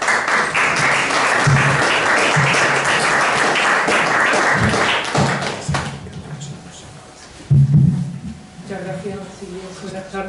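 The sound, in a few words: audience applause for a speaker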